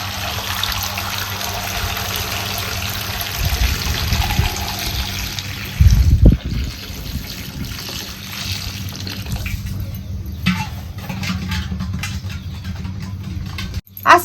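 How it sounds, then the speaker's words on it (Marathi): Water poured steadily over a large batch of raw mangoes, two to four kilos, set to soak overnight for a traditional mango pickle; a continuous close trickle and splash with a brief heavier gush midway, no talking. "आता ह्याच्यात पाणी ओतते आणि रातभर आपल्याला भिजत ठेवायचं."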